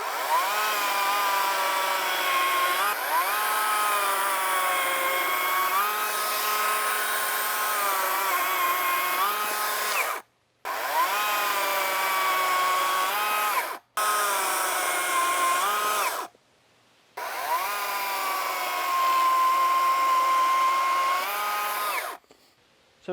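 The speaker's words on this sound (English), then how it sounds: "We're going to cut through some 6-inch logs, some 8-inch logs, just see how he goes." A Kress 60 V cordless chainsaw cutting through 6- and 8-inch logs in the woods, a loud whining buzz dipping in pitch under load across four long cuts separated by brief silences.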